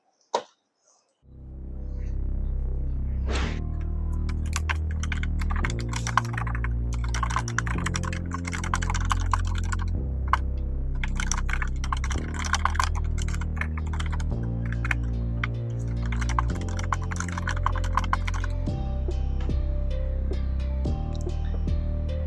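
Steady, rapid typing on a computer keyboard while drafting a book, close and clear, with continuous key clatter in bursts over a low hum for over twenty seconds.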